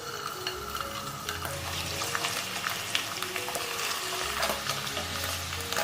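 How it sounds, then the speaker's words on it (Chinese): Shiitake mushrooms fry in rendered chicken fat in a pan, giving a close, steady sizzle and crackle with occasional scraping as they are moved, and no voices. "锅底留一点鸡油，把花菇放进来煎"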